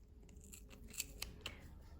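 Scissors cut through the knitted yarn of a children's beanie, making three crisp, close snips spaced about a quarter second apart in a quiet room.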